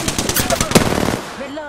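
Rapid bursts of video game gunfire, a quick rattling string of close, loud shots that fades out with a faint voice underneath.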